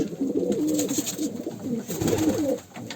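Domestic kara kanat posta pigeons coo steadily at close range, their overlapping low, rolling calls forming a continuous murmur with a brief dip near the end.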